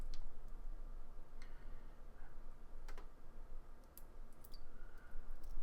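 Green RX wire connector pushed into an electronics board, a few small, crisp clicks scattered over a faint background hiss, close and quiet.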